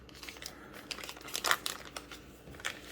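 Crinkly plastic packaging around a kimbap product is opened with scissors, giving short, close crackles and crinkles in quick irregular bursts, fairly quiet with no talking.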